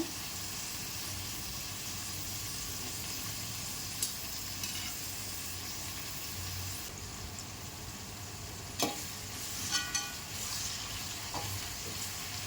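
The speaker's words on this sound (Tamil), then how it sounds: "இது நல்லா வதங்கணுங்க, நல்ல ஒரு கோல்டு கலர் வரணும்." Onions sauté with green chillies in a pan for a pepper chicken gravy, giving a continuous, even sizzle and hiss. A few soft scrapes and taps of stirring break in near the middle and end.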